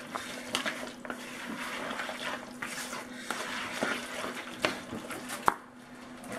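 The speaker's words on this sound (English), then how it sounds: "I'm gonna hit it with this egg. And I'm just gonna stir this up." A spoon stirs egg into a chicken lasagna casserole mixture in a bowl, soft wet squelching and light scraping with occasional clinks against the bowl, close and quiet.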